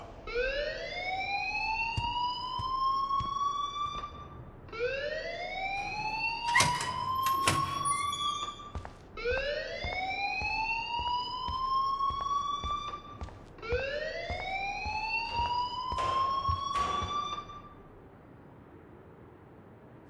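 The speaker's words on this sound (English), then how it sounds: "please turn off that alarm since that's your job" Rising, wailing alarm repeating four times in steady cycles at a school in the game Life Is Strange, loud and continuous with no talking over it.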